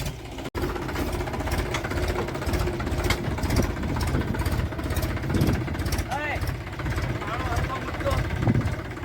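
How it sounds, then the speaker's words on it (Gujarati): A JCB backhoe engine runs at a steady idle nearby, a continuous low rumbling throb with faint voices underneath. "હવે જઈ રહ્યો છું જેસીબી લઈને આપણું ટ્રેક્ટર કાઢવા માટે"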